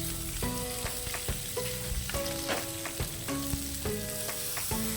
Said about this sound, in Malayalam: കറിവേപ്പിലയുടെ മുകളിലായി മാരിനേറ്റ് ചെയ്ത് വെച്ചിരുന്ന ഫിഷ് നിരത്തി ഫ്രൈ ചെയ്തെടുക്കാവുന്നതാണ്.